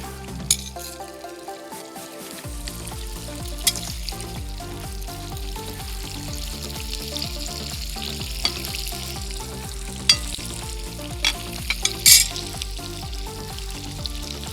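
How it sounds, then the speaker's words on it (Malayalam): Chicken patties deep-fry in hot oil for a homemade burger, giving a steady bubbling sizzle throughout with a few faint clinks and scrapes of a utensil. "അപ്പോൾ നല്ല എണ്ണയിൽ കിടന്ന് നമ്മുടെ ഈ പാറ്റീസ് നല്ലപോലെ ഫ്രൈ ചെയ്യണം"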